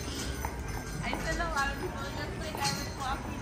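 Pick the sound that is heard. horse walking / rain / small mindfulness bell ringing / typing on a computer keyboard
horse walking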